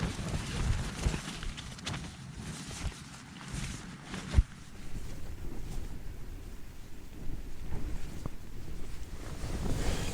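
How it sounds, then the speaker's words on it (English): Strong, blustery wind roars continuously across an exposed hillside in the Yorkshire Three Peaks, buffeting the microphone in uneven gusts with a single sharp knock partway through. "Absolutely tough conditions, very blustery and very exposed, and a good test."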